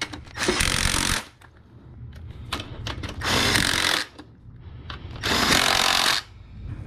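Power tool driving bolts back into a throttle body on an R53 MINI Cooper, three loud separate bursts of whirring with short pauses between them, close by and with no talk.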